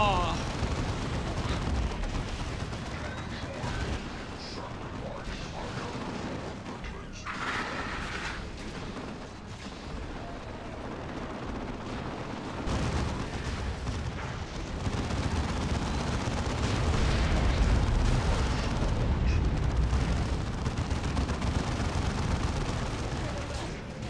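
A dense video-game battle with rapid gunfire mixed with booming artillery explosions, loud and continuous, and voices talking over the din.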